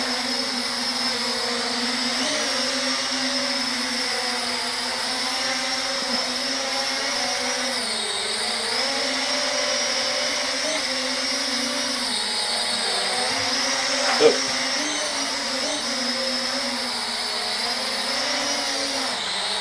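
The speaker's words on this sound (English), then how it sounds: "it goes into flying mode." Syma X95 toy drone flying indoors, its small rotors producing a steady, loud buzzing whine that holds throughout with slight pitch shifts and one brief knock midway.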